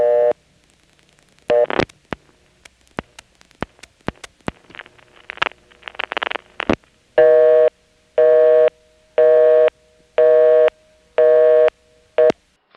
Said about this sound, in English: notice the NX1 pulsing right before it connects us to the busy tone